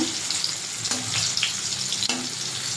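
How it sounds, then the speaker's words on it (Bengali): Salted bitter gourd frying in oil in a pan, a continuous close sizzle with occasional stirring scrapes and spatula knocks, no talking. "উচ্ছেটাও প্রায় ভাজা হয়ে এসছে"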